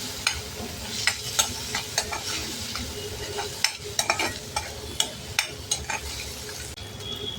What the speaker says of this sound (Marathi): थोडी कसुरी मेथी आणि बारीक चिरलेला टोमॅटो. टोमॅटो चांगला मऊ शिजू देऊ आपण.